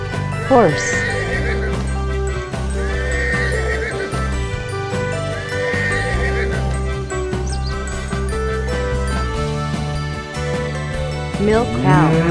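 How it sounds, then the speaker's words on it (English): A farm horse whinnies several times in high, quavering bursts spread through the stretch, each call rising and falling, set against a steady background of music. "Horse."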